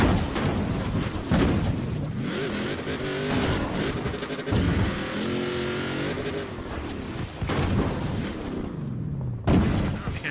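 A heavy truck in Forza Horizon 4 driving with a loud, steady engine drone and shifting revs, a few sharp louder bursts cutting in, close and continuous without talk.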